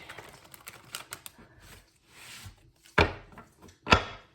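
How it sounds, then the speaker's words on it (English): Tarot cards given one more quick shuffle: a scatter of soft riffling taps, then two sharp, loud snaps as the deck is squared, close and alone with no talk. "I'll give it one more quick shuffle here."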